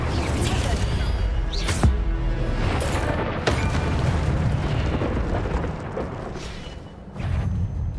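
Incendio fire spell cast in Hogwarts Legacy: a few loud whooshing, booming bursts over a dense, continuous game soundscape, with background voices heard.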